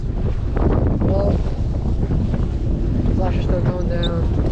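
Strong wind blasting across a fishing pier during herring fishing, loud continuous buffeting on the microphone with brief talk and faint background voices over it.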